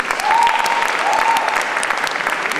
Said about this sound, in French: On applaudit le poète s'il vous plaît.